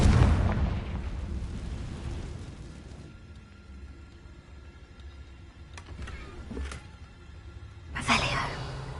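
A Confringo blasting spell explodes in Hogwarts Legacy, a loud booming burst at the start that fades into a quiet rumble, followed by a few sharp pops and a second blast near the end.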